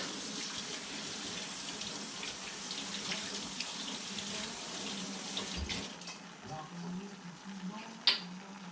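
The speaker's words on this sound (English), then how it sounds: "I'm going to go ahead and wet my hands and my whisk." A kitchen tap runs steadily while hands and a whisk are wetted during gumbo making, a close, continuous hiss of flowing water that eases off after about six seconds and ends with a small clink.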